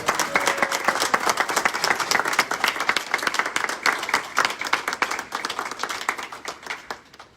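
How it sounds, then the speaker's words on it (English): Sustained applause from a sizable crowd at a police officers' swearing-in ceremony, dense clapping filling the whole stretch and tapering slightly toward the end. "One more round of applause."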